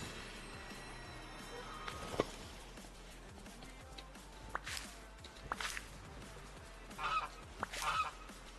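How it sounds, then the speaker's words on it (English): Geese honk faintly in a snowy Dreamlight Valley game scene, a few scattered calls over soft footsteps and a low ambient bed. "The goose was looking weird."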